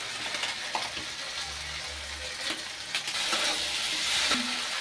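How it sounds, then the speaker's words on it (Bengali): Spice paste frying in oil for Bengali chicken kosha, a steady close sizzle with occasional spoon scrapes and stirring clatter against the pan. "এবার একটু কষিয়ে নেব।"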